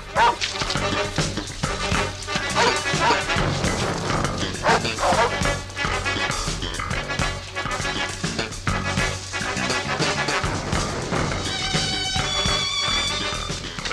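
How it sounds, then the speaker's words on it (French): Several dogs bark and yip repeatedly in a lively, irregular chorus, close and loud, mixed with rustling and other movement sounds. "Des chiens. Ils nous ont probablement flairés."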